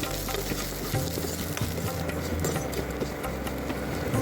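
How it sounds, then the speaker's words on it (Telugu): Ginger garlic paste and turmeric frying in a pan for a radish fry, a steady loud sizzle with occasional stirring scrapes, close and continuous without talk. "1/2 స్పూను అల్లం వెల్లుల్లి పేస్ట్ వేసి కాసేపు వేగనివ్వాలి."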